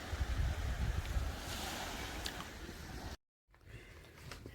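Sea waves and wind at the beach at Maamoura, a broad rushing wash with low rumbling surges, loud and close, briefly cut to silence before resuming more softly.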